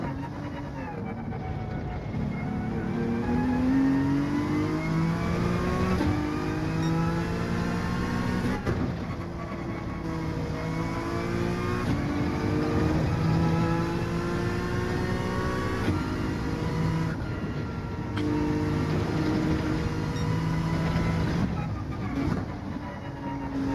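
Race car engine of a Honda NSX Group 4 machine in Gran Turismo 7, a steady loud drone whose pitch climbs and drops through repeated gear changes, with no talking over it.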